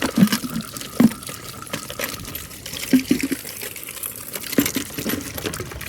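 Water splashes and trickles while a small chicken coop water tray is rinsed, with a few brief louder splashes over a steady close running-water background.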